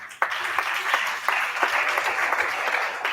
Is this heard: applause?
yes